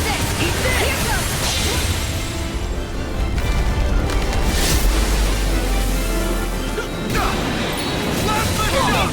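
A water spell cast in the video game Tales of Arise: continuous loud rushing, splashing surge like crashing surf, swelling and whooshing over about nine seconds amid dense battle effects.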